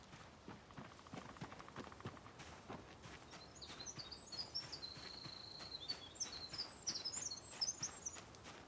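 Birds chirping in a quiet outdoor video-game forest, with a cluster of bright, rapid twittering calls in the second half over steady rhythmic hoof-like footsteps and a faint ambient bed.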